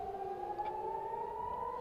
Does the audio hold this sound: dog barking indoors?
no